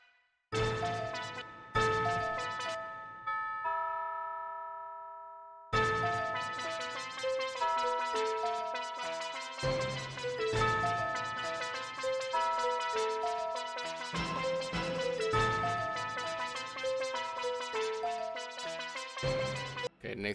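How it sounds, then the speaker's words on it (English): Synthesized bell melody in an FL Studio beat for a rapper: bright, ringing bell notes play a repeating tune over the beat, loud and steady, after a brief sustained bell chord at the start. "next, I got this little bell."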